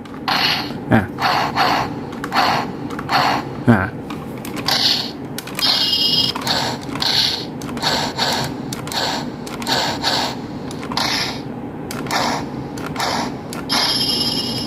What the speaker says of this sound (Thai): แล้วคราวนี้ เมทัลกระบองก็จะมีเสียงนะครับผม